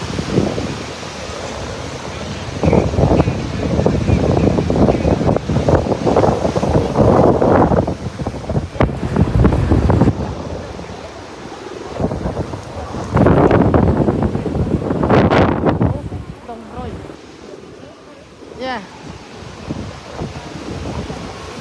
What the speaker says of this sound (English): So cold, so windy, but we love it.